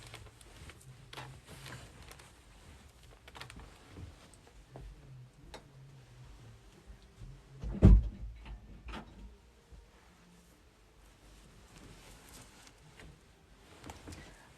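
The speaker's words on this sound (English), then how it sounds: "Let me close this door." A bedroom door shuts with a single sharp thud in the middle, standing out against a quiet room with faint rustles and small clicks before and after.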